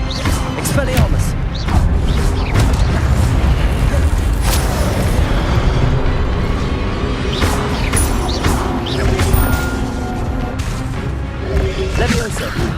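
Expelliarmus and other spells are cast in the Hogwarts Legacy video game, heard as repeated booming magical blasts and crashes over a busy game soundscape, loud and continuous throughout.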